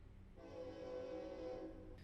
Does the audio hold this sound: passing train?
yes